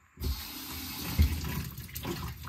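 Water rushes steadily down a freshly unclogged bathroom sink drain, a continuous close gurgling flow with a brief louder splash partway through.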